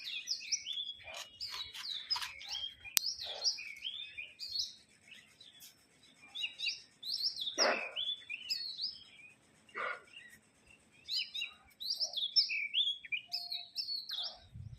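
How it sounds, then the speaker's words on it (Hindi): Small birds chirping in the early morning around a rooftop home, quick repeated tweets in bursts with brief quiet gaps, fairly close and clear against a calm, still background. "चिड़िया चहचहाती ना, अच्छा लगता है सुबह सुबह।"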